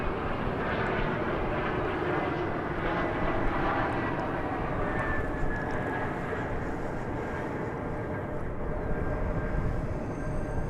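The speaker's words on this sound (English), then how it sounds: "off to Querétaro in Mexico goes this 737-800 American Flight" An American Airlines Boeing 737-800 taxiing at Dallas Fort Worth Airport, a continuous jet engine rumble and whine heard from a distance, steady throughout with a faint rising tone partway through.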